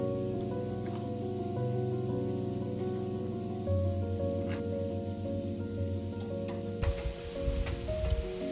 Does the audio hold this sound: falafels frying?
yes